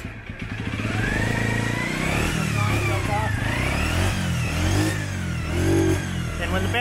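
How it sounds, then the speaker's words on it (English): A Japanese import motorcycle with a dead battery is started, and the engine catches and runs steadily, its pitch rising and falling through revs, loud and close. "So this bike has a dead battery, so it's a little bit harder to start."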